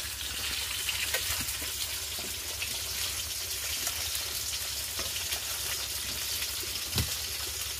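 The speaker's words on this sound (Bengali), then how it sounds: "এখন আমার মাছগুলো ভালোভাবে ভাজা হয়ে গেলে তারপর আমি আলুগুলো ভেজে নেব" Hilsa fish and potatoes frying in oil in a home kitchen, a continuous close sizzling hiss with occasional pops and stirring clinks, steady throughout with no talk.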